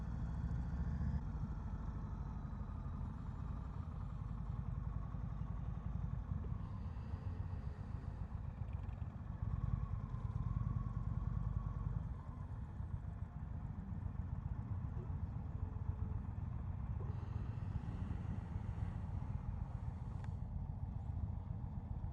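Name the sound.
2021 Indian Springfield Dark Horse motorcycle engine idling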